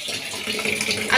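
Tap water runs over purple jam-colored potatoes being washed in a sink, a brief splashing gush with gurgling spatter, close and moderately loud.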